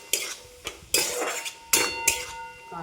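Sesame seeds frying in a pan are stirred with a metal utensil, giving close scraping and clanking strokes in an uneven rhythm over a faint sizzle.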